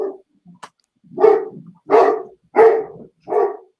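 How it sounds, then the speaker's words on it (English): An excited dog barks five loud, close barks in an uneven rhythm, with short silent gaps between them and no talking. "And the dog is excited."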